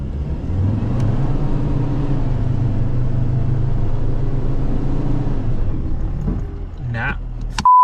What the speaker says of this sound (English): we're going to try first gear, low range. We're going to put the throttle controller on 1 so we can just